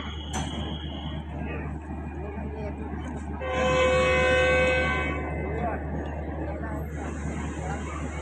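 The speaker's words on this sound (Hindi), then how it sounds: "ये अभी हॉर्न दे रही है," A locomotive pulling train 101UP at Lahore, about to depart for Rawalpindi, sounds one long, loud, steady horn blast of a couple of seconds over a constant low engine rumble.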